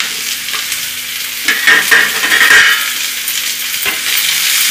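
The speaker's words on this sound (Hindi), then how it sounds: "अब इसमें शिमला मिर्च डाल देंगे" Capsicum frying with onion in a kadhai makes a close, busy sizzle with stirring scrapes, swelling louder partway through before settling back. No one speaks.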